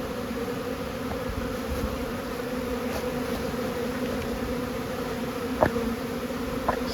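Honeybees at a hive give off a steady, even drone throughout, with a couple of faint clicks near the end.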